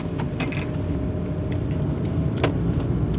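A car travels a highway at night on a long drive home, with steady low road and engine rumble filling the cabin and a few faint clicks and creaks on top.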